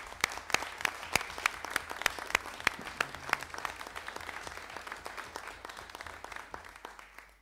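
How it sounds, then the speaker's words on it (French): A municipal council meeting breaks into applause after the mayor's re-election, with many hands clapping in a dense, even patter. A few sharp, close claps stand out, and the sound thins gradually toward the end. "On peut applaudir nos collègues."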